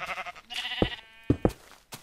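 Sheep in the Minecraft video game bleat several times with wavering, nasal cries, interleaved with a few short thumping knocks, close and moderately loud with no talking.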